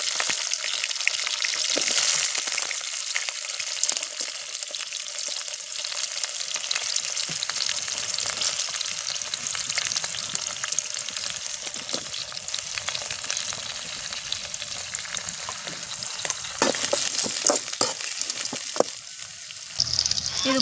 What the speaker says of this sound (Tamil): இது கூடவே தக்காளி ஒன்று கட் பண்ணி வச்சுருக்கேன், அதையும் சேர்த்து வதக்கிடலாம்.